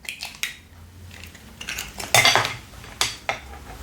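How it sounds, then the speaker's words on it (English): Two eggs cracked into a bowl in a home kitchen, several sharp close taps and knocks against the bowl separated by short pauses, with faint shell and liquid sounds between them. "what we need is 2 eggs as well. Just crack them into a bowl."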